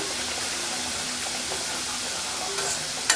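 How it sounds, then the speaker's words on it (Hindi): Moong dal kachoris frying in oil over a low flame, a dense steady sizzle close by with faint bubbling and a brief clink near the end, no talking. "हल्की आंच पे ही इन्हें फ्राई करना है, ताकि अंदर तक अच्छे से फ्राई हो जाए"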